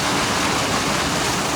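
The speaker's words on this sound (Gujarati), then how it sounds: "કેનાલમાં કે જો જોરદાર પાણી જાય છે" Water rushes hard through a canal in a loud, continuous roar of broadband noise that stays steady and close, with no voices.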